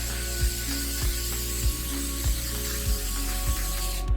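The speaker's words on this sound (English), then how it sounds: "Okay, I'm gonna spray this down here." Cooking spray misted onto a brownie pan in a home kitchen, a steady soft hiss with a faint rhythmic clicking repeating about every half second, heard alone at low level.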